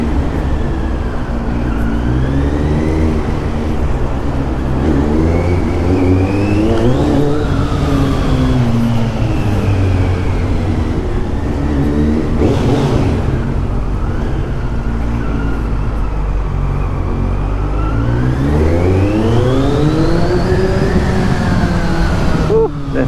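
A Kawasaki Z900 motorcycle with a slip-on exhaust revs inside a garage, its loud engine note rising and falling in repeated sweeps, with a person talking over it.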